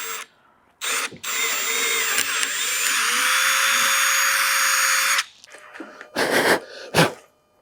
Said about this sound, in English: I'm just going to drill in a hole right at the end